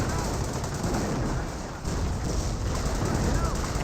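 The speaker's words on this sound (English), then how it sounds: "Airburst round firing away." Airburst rounds firing in Company of Heroes during a match involving a Panther, a dense rattle of gunfire and explosions in continuous rapid bursts under voice-like chatter.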